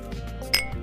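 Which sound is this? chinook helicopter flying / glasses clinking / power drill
glasses clinking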